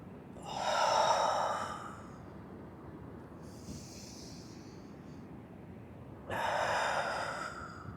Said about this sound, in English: Breathing along with it.